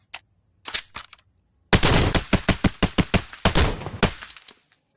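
A shotgun loaded with buckshot fires in the video game Contractors Exfilzone, a burst of loud, close, evenly spaced reports in quick succession after a few earlier isolated shots, with no talk.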